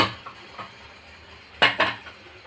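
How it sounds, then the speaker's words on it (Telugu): Metal burners being set back onto a gas stove, giving two sharp, close metallic clanks near the end after a few faint taps and light rattles. "బర్నర్లు పెడుతున్నాను"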